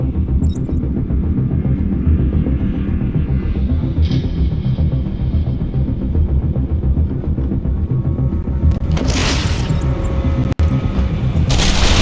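An explosion in the video game Batman: Arkham Asylum comes through as a loud, deep boom that rolls on as a continuous rumble, with brief hissing bursts near the end.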